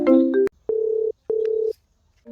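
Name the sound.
phone ringing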